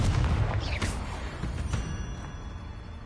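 Spell blasts in Hogwarts Legacy, a combat flurry of booming impacts, whooshes and sharp cracks that starts loud and thins into fading rumbles.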